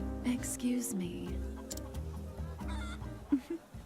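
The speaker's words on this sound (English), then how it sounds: "I was looking at chickens" Chickens cluck repeatedly in the Octopath Traveler video game, game music and ambience running underneath with a few sharper squawks near the end.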